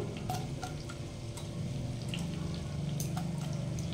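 Minced garlic and chopped green chilli fry in oil over a very low gas flame, giving a soft, steady crackle with scattered small pops, fairly quiet and close, with no talking.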